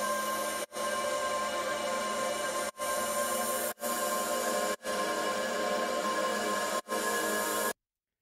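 Dense, bright synth pads from a remix, built in Ableton with paul-stretched sound design, forming a steady wall of sound cut by several brief gaps before stopping abruptly.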